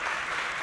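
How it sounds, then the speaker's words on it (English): Round of applause from a summit audience at a FII Priority conference in Rio, a short burst of dense, steady clapping heard at moderate volume without talk. "A round of applause."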